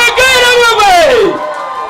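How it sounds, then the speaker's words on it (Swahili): A church congregation at a night prayer meeting in Kenya cheers loudly. A high wavering ululation-like cry rises and slides down over a crowd roar, then fades into a softer murmur. "Wapi shangwe na vigelegele wewe?"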